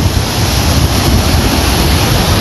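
Strong wind roars during heavy rain beside a lagoon in Arambaré, a loud unbroken rushing blast buffeting the microphone with no pauses.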